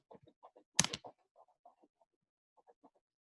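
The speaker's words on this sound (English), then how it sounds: "Are you typing, Evelyn?" Faint, sparse keystrokes on a computer keyboard, a loose string of quiet clicks with one louder clatter near the start, otherwise near silence.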